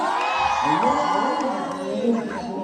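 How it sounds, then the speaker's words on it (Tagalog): A concert crowd at a Pride festival cheers and shouts together, a dense sustained roar of mixed voices and whoops filling the venue. "Okay lang po ba sumigaw kayo pagkasabi namin ng Happy Pride Month?"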